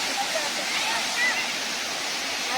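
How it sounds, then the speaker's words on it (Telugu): Daaragedda waterfall roars as a steady, dense broadband rush of falling water, loud and close, with no breaks across the stretch and faint voice-like traces beneath the torrent. "సో ఇదేనండి వాటర్ ఫాల్స్."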